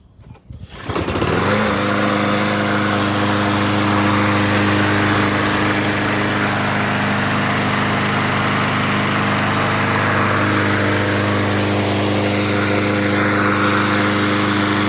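A lawn mower's primer engine sputters to life after a pull-cord start, then settles into a loud, steady, close droning run with a strong buzzing hum throughout, no voices.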